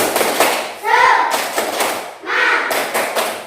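Class of elementary schoolchildren at an Indonesian primary school doing a rhythmic spirit clap, loud patterned bursts of hand claps with children's chanting voices rising between them in a repeated cadence.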